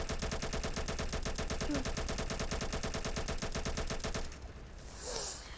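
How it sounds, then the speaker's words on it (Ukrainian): Gunfire in a Roblox war game: a loud, steady run of rapid shots fires for about four seconds, then cuts off, leaving quieter game noise. "Стріляють з дробовика!"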